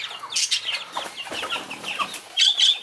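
Farm-raised broiler chickens grown from chicks cluck and chirp in a busy overlapping chorus while pecking at feed, close and fairly loud, with a few sharper calls near the end and no talking.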